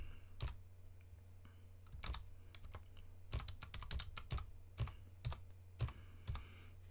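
Quick bursts of close computer keyboard typing enter a username and password, clustered keystrokes with short pauses between, quiet room and no speech.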